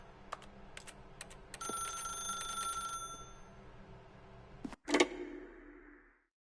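In the video game The Stanley Parable a telephone rings in bright, trilling bursts, each ring ending abruptly. A louder clatter follows, then a short hum before silence.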